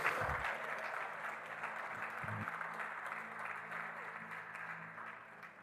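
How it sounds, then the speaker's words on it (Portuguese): Congregation applause at a church service, a steady wash of clapping that holds from start to finish at moderate level, with a low voice or instrument hum faintly underneath. "Você pode aplaudir a palavra de Deus?"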